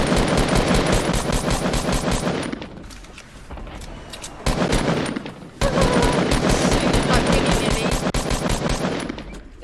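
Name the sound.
gunfire in the video game Fortnite Battle Royale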